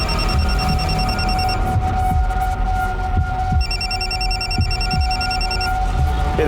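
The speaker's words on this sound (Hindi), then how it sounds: "ये फोन किसका बज रहा है?" Phone ringing in an electronic alarm-like pattern, with repeated bursts of beeping tones, a pause, then more beeping, over steady background noise and low thumps.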